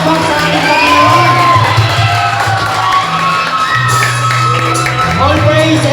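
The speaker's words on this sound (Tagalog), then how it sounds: "Pinakamalakas na palakpak sa ating Panginoon." A church congregation at a Father's Day men's ministry presentation cheering and applauding loudly for the Lord, a dense, close roar of shouts, whoops and clapping that holds steady throughout, with voices calling out over it.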